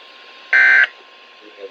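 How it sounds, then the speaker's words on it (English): A weather radio emits an EAS alert activation tone as a single loud, flat electronic beep of about a third of a second, set against a faint radio-voice hum. "Ce message est destiné à tester les fonctions d'activation d'alarme et d'affichage des nouveaux récepteurs radio"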